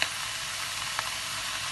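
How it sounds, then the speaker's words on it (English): Garlic and vegetables frying in a pan with a steady, close sizzle and hiss, a soft clink near the middle, and no talking. "I want to fry it so that the smell of the garlic and the vegetables have a big good"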